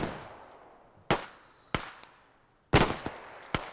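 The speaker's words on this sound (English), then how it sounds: "Okay, we're taking some fire," Gunfire in Arma 3, a World War II scenario, comes as sharp scattered shots, a handful of loud cracks with short echoing tails spread over a few seconds.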